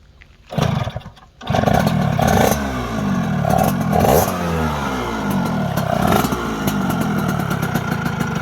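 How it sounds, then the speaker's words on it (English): A vintage Yamaha street bike fitted with a YZ85 two-stroke engine barks into a close, loud rev, then holds a buzzy idle with repeated throttle blips rising and falling. "it literally sounds like a YZ80 or 85"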